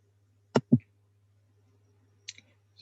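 Two quick mouse clicks close together, then a couple of fainter clicks a second and a half later, crisp and near against a quiet background, used to add a webhook on a computer.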